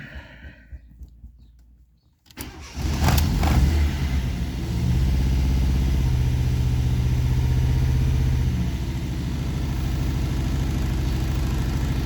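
A car engine cranks and catches after a quiet start, then settles into a steady, loud idle as it warms up nearby.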